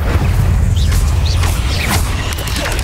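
Incendio fire spell cast in Hogwarts Legacy inside a cave: a loud, sustained roaring whoosh of flame with heavy low rumble and scattered crackling bursts, running steadily for about three seconds with no talk.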